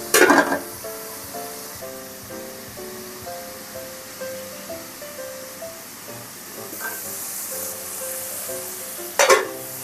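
Onions sauté in a pan for an egg curry, a soft, continuous sizzle with light stirring scrapes and a couple of sharp clatters at the start and near the end.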